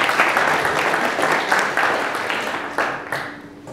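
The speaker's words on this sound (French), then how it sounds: "Vous pouvez l'applaudir." Conference audience applauding a speaker as they take the microphone at a sustainable infrastructure event, a steady wash of clapping with a few sharper bursts, fairly close and full, fading slightly toward the end.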